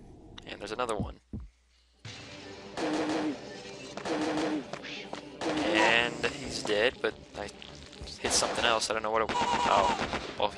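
Gunfire in a video game in which a police character hunts animals, with sharp shots and bursts standing out over game audio and someone talking through most of the clip.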